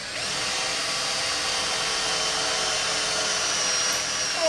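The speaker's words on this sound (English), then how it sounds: "When the screw won't go in by itself, you got to pre-drill and then put the screw in." A power drill runs steadily at high speed for several seconds, making a close, loud whine as it pre-drills screw holes while an indoor bog filter for a pond is being built.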